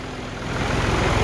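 Low, steady rumble of a John Deere scraper tractor engine running on a farm, continuous and fairly close, alone without talk.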